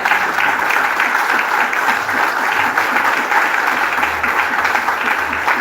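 A church congregation applauds steadily, a dense and even wash of clapping from many hands that fills the room and continues without pause.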